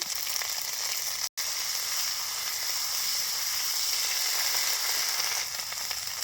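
Cumin and coriander paste hitting hot oil: a loud, dense, continuous sizzle heard up close, broken by a brief silent gap near the start, with no talking.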